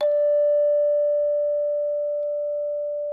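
A single sustained D tone rings out steadily for about three seconds, clear and pure, slowly fading toward the end.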